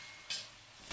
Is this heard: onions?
yes